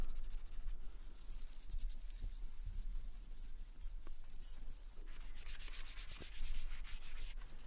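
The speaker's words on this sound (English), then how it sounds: "finished off using some sandpaper by hand" Pallet wood being sanded by hand with sandpaper, producing a steady close rasping rub with repeated strokes and no voices.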